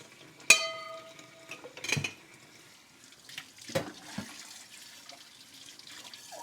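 A dish is rinsed under a running kitchen tap, with soft water splashing and a few clinks of crockery against the sink. The sound is quiet and fairly close, and no one speaks.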